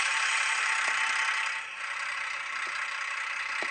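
Sound module of a Roco TT-scale Br650 model railcar winding down as its diesel engine shuts off: a steady rattling engine drone that dips and settles, with faint clicks.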